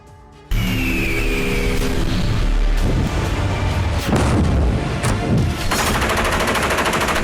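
Heavy gunfire rings out during a NATO military exercise with warships. It begins abruptly, then keeps up loud, dense bursts and booming rumble for several seconds without a break.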